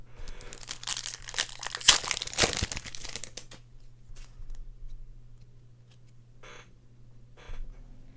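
Booster packs of Magic: The Gathering Throne of Eldraine cards being torn open and handled, with dense crinkling and tearing of foil wrappers over the first few seconds, then quieter scattered rustles and card handling.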